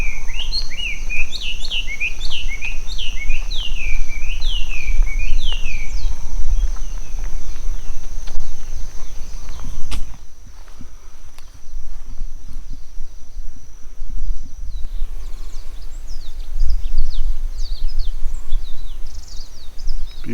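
Birds sing in Lava Tree State Park near Pahoa on Hawaii's Big Island, with a repeated, loud chirping phrase nearby, then scattered, fainter calls over a steady outdoor hush.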